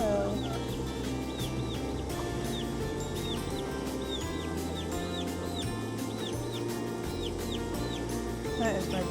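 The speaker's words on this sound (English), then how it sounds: "That is my broody hen." A broody hen, just off her eggs, clucks repeatedly in short, regular calls close by, with other chickens and faint background noise around her.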